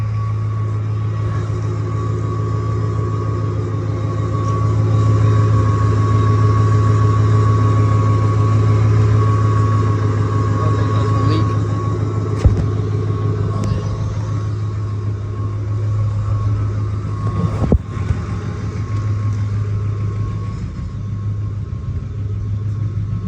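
A 2007 Ford Mustang GT engine held at a steady 2,000 RPM, a loud continuous low rumble with a constant hum, swelling slightly mid-way, with a couple of brief knocks and no speech.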